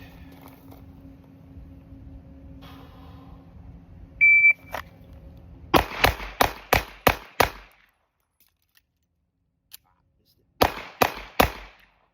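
Handgun shots ring out during a police qualification course at a range: a timer beep, then six sharp, loud shots in quick rhythm, a quiet pause for reloading, and three more rapid shots.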